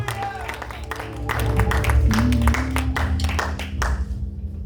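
A church congregation clapping and cheering during a French-language service, steady rhythmic applause over an underlying low musical drone and hum, swelling in the middle then tapering off.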